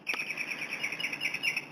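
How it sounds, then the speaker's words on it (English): A bird chirps in a fast, continuous high trill with no pauses, close and clear, during an outdoor spiritual talk. "oh my God, that bird is distracting me"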